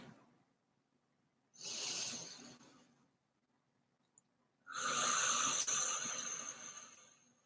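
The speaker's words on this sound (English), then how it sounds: "take a couple of deep cleansing breaths" Two deep cleansing breaths are taken close to the microphone, each a slow, breathy rush of air that swells and fades, separated by a few seconds of near silence.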